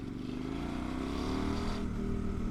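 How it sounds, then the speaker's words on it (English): Low rumbling exhaust of a KTM 1090 motorcycle, steady and fairly close, with a slight rise in pitch partway through as the engine pulls. "You can kind of hear the exhaust."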